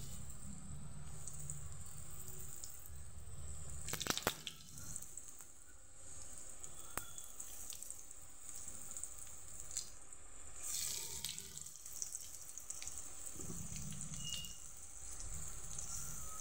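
Large eggplant slices drop into hot oil on a tawa and give off a soft, steady sizzling hiss that holds faint but even throughout, with a few brief clatters along the way.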